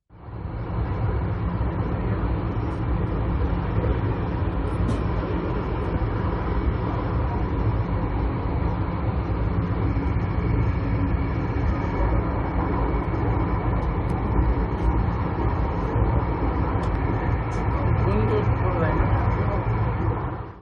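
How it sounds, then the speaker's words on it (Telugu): The Vande Bharat express on the Katra–Srinagar route crosses the Chenab Anji cable-stayed bridge, a steady, loud rumble of rolling rail wagons that holds evenly throughout without a break. "కట్రా శ్రీనగర్ వందే భారత్ రైలు చినాబ్ అంజీకాడ్ తీగల వంతెన గుండా ప్రయాణించింది."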